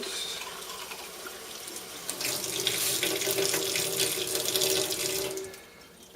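Running tap water rinsing a clear air conditioner drain tube in a sink, a steady close splashing flow that swells and shifts as the tube is moved under the stream, then tapers near the end.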